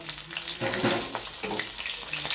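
Slit green chillies and nigella seeds sizzle steadily in hot oil left over from frying fish, a soft, continuous crackle close by.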